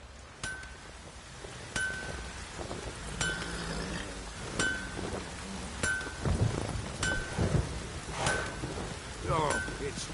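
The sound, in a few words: rain falling in video game The Witcher 3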